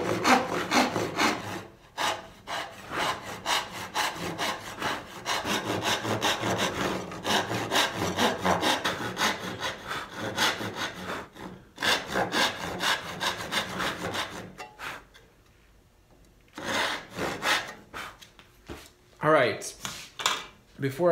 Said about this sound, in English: I'm gonna take my dovetail saw, and I'm gonna saw really close to these lines as much as possible.